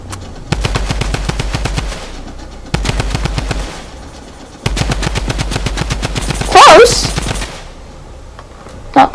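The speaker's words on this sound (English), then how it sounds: "Drum gun." Bursts of rapid drum gun fire in Fortnite, three long sustained volleys of loud, close shots separated by brief pauses, with a short loud impact near the end.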